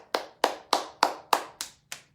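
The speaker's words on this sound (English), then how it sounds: "we're clapping our hands with a bright sound" Seven bright, crisp hand claps ring out one at a time in an even, unhurried rhythm, close and alone, each fading quickly.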